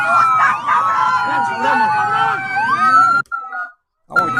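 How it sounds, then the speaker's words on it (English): A police siren wails in the background with rising and falling tones under loud crowd chatter at a riot with Buffalo police, cutting out briefly near the end. "We got siren in the background here too."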